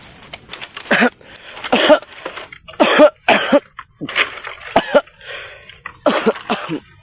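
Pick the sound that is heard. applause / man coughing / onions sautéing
man coughing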